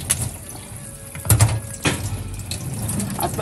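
Crabs rinsed under a running tap for a crab dish, water splashing and gushing with a couple of louder surges, close and fairly loud.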